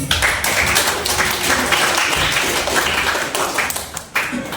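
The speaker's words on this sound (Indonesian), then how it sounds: "Oke, tepuk tangan buat kita semua ya." A group in a classroom-style session claps hands together, a fairly loud, busy crackle of clapping lasting several seconds, with some voices mixed in.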